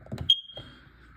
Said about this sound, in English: We're gonna test our carbon monoxide alarm.